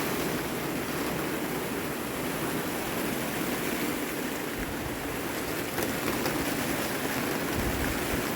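Heavy summer downpour at a garden plot in Visaginas, Lithuania, a dense, unbroken hiss of rain that holds steady and loud throughout with no voices.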